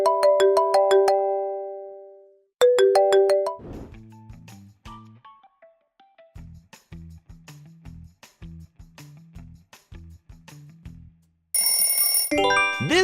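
Several smartphone ringtones play one after another: a bright marimba-like melody loops twice, then a sparse, low two-note chiming tune repeats steadily, followed by a busy high-pitched electronic jingle at the end, all loud and close with no voices.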